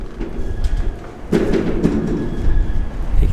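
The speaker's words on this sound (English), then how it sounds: "You can hear the door banging there" A car door on a Nissan Silvia S15 Spec R bangs once with a single dull thud, set against a low, breezy rumble of wind.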